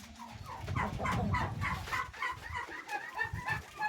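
Many young chickens cheeping in a busy, overlapping chorus, with young turkeys, bird calls and scuffling nearby and no voices.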